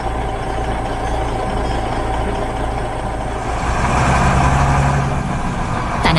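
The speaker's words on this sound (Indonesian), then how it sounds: "Sang ekskavator bekerja tanpa lelah membersihkan sisa-sisa galian itu." A working excavator and dump truck at a beach-house construction site, with a steady low heavy-engine drone that swells and gets louder partway through, and a brief clank near the end.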